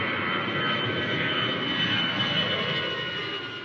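A light aircraft's engine runs steadily on a runway before a flight, a continuous loud drone with no breaks, heard close and alone without any voices.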